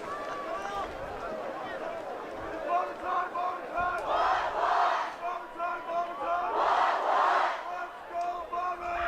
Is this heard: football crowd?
yes